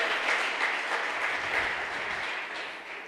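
A church congregation claps in sustained, dense applause that stays loud and even for a few seconds before easing slightly at the end.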